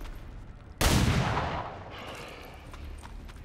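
A single loud gunshot cracks out in the video game XCOM 2, aimed at a zombie, after a quiet lead-in. It is followed by a long, fading reverberant tail.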